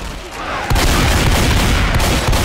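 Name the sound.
gunfire in the video game Left 4 Dead 2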